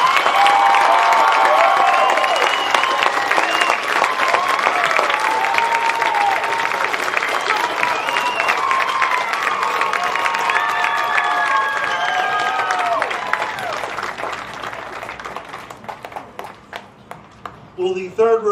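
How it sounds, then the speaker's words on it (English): An audience at a high school graduation ceremony claps steadily and loudly, with scattered cheers and crowd voices mixed in, before the applause thins out toward the end. "Let's have a round of applause for the second row of graduates."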